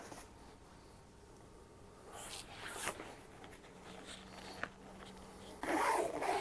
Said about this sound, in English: Then after that, zip it here on the side.